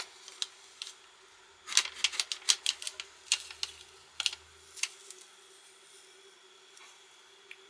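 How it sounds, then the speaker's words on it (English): Transfer tape scraped and peeled back letter by letter from craft vinyl cut on a Cricut Joy Xtra, heard as a close, quick run of crisp ticks and snaps, densest in the middle, with no talk. "Just really scraping it and pressing it down with my scraper, and then gently pulling back the transfer tape letter by letter."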